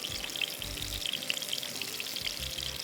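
Shallow frying in olive oil, a steady bright sizzle and crackle running throughout with low bumps from the pan, close and continuous with no talking.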